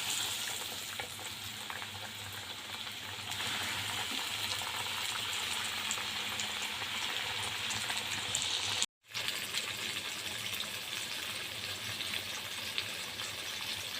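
Breaded chicken cutlets (pané) sizzle loudly and continuously in hot oil in a frying pan, a dense steady crackle with occasional stirring, briefly cut off near the end.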